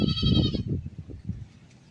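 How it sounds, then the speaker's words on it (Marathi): A cow lets out a short, nasal bleating call up close, fading quickly into quieter rumbling within a couple of seconds. "हो का, ही किती सुंदर गाय आहे बघा"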